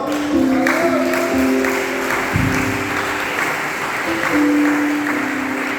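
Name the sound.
congregation applause in church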